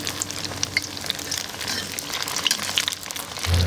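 Pork intestine pieces fry in a pan of hot oil, giving a close, steady crackling sizzle with sharp pops scattered throughout and no talk.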